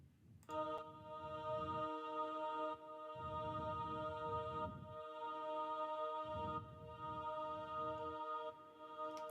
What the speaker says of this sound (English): So this choir is going to sound like this.